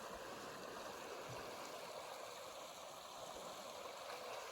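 Silty, murky river swollen by overnight rain flows through a valley in Jasper, a steady broadband rush of water that stays even and continuous throughout with no voices.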